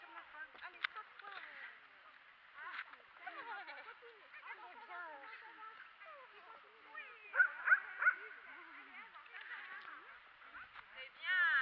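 A dog barks and yips repeatedly during an obedience training session, with the sharp, bright barks sounding at a moderate distance over a person's ongoing talk and encouragement.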